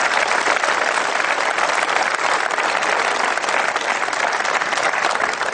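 A rally crowd at a closing campaign speech claps loudly and continuously, a dense, even wall of applause that holds steady throughout with no voices above it.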